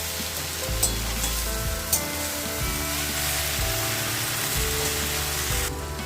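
Greens frying in a pan and being stirred, a steady close sizzle with occasional scraping stir sounds, no talk.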